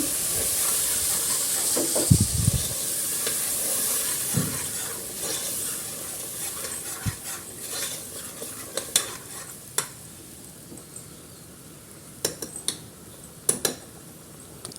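Ground masala paste frying in a pan for a sprouts masala curry, with soft steady hiss and sizzle, intermittent stirring scrapes and knocks, and occasional sharp pops close by.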